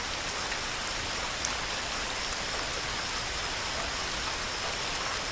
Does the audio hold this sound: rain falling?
yes